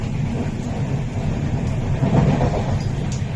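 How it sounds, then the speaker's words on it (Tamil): Kanyakumari Express train rolling along the rails during rain, a steady, dense rumble with low clatter filling the whole stretch, no voices. "மாறி வரக்கூடிய கன்னியாகுமரி எக்ஸ்பிரஸ் ட்ரெயின் மழை பெய்கின்ற நேரத்தில்"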